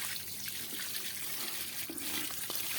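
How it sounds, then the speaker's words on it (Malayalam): Water is poured out at a fish farm, a faint continuous splashing trickle with soft drips, heard alone at low level. "ആ വെള്ളം മുഴുവൻ അങ്ങ് മറിച്ചേക്ക്."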